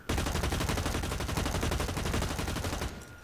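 Dense, continuous rapid gunfire in the shooter game Blacklight Retribution, loud sniper and automatic rifle shots crackling without a break for about three seconds before easing off.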